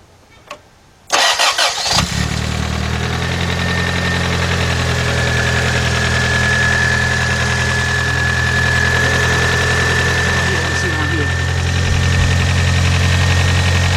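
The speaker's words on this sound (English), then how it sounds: "I'm going to start it up" A 1991 Toyota Corolla 1.6 with a severe oil leak cranks briefly, fires up loudly and settles into a steady, even idle with a low rumble and a faint belt whine that runs throughout.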